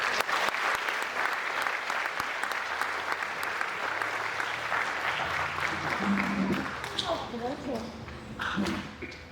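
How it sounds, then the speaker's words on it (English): Audience at an 8th-grade promotion ceremony gives a sustained round of applause, loud and dense at first and then thinning, with scattered voices and footsteps as it fades. "please join me in a round of applause for our 2025 Salutatorian, Elizabeth Liu."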